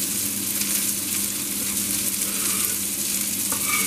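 Onions and carrots fry in rendered fat in a pan that already has flour crusting on the bottom, producing a steady, close crackling sizzle for several seconds with no speech.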